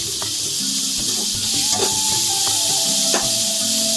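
Chopped tomato sautés in a pan with a steady loud sizzle and hiss, a few faint clinks of stirring breaking through the frying noise.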